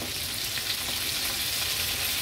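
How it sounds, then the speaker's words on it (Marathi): Squid rings frying in hot oil in an Agri-Koli style seafood dish, a dense, even sizzle and bubbling with no talk. "आणि या रिंग्स तळताना ना थोडंसं आपण लांब उभं राहायचं"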